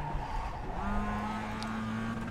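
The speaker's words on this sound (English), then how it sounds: "The engine sound of this." A high, whiny race car engine drone in the racing game iRacing holds a steady pitch, rising slightly at one point, with no voices.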